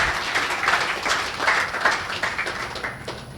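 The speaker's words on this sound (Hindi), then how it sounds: "एक बार इनके लिए तालियां।" An audience claps for a Special Task Force team at a presentation event, a moderately loud, busy patter of many hands that swells and eases a little without any speech.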